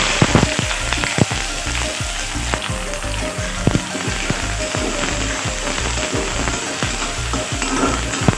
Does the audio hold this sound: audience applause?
no